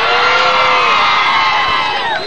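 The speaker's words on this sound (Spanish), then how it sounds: "¡Aplauso para él!" A crowd cheers, whoops and shouts loudly and continuously for a male model at a men's modelling show, a dense wash of voices with no pauses.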